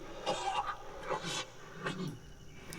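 A character in the Guild Wars 2 game coughing in Janthir Wilds, with several rough, harsh coughs in a row, moderately close and with no speech over them.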